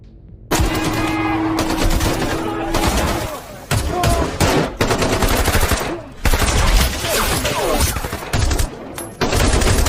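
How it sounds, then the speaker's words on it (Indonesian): Heavy gunfire from a heated firefight in a cartel action film, dense bursts of automatic fire and rapid shots, loud and close, with short gaps and busy background sounds. "hingga baku tembak sengit kembali harus berlanjut"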